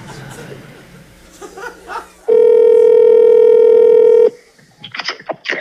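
Telephone tones from a prank call: a steady ringback tone holds for about two seconds after chatter and laughter, with talk and laughter resuming once it stops; no distinct dialing beeps stand out.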